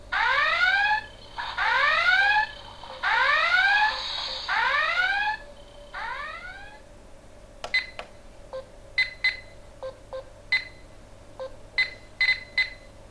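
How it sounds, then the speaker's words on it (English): A Star Trek Enterprise-D toy plays a series of rising, whooping red alert klaxon sweeps that repeat loudly, followed by assorted Enterprise ambient chirps and beeps from its small speaker. "The second button has the red alert klaxon, as well as some general Enterprise ambient sounds."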